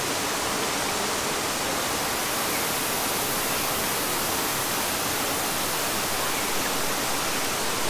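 A waterfall in southern Belize pours in a steady, dense, hissing roar that stays even and unbroken throughout.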